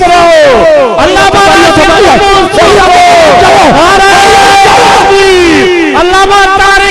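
A large crowd at a religious gathering shouts the Nara-e-Takbir slogan in unison. Loud, sustained massed voices swell and fall in rhythmic waves that sound near, with many overlapping voices layered over amplified, echoing sound.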